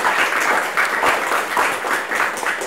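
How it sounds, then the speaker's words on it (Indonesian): A studio audience on a TVRI Sumatra Selatan talk show applauds, a dense and fairly loud wash of clapping that holds steady throughout with only slight swells. "Boleh saya minta tepuk tangan untuk di studio dong?"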